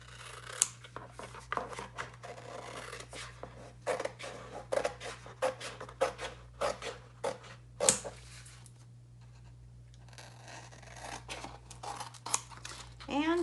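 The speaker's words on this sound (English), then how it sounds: "And you take a scissors," Scissors snip through paper transfer sheets along cutting lines in a series of close, crisp cuts with short pauses, set against a steady low hum and faint paper rustling.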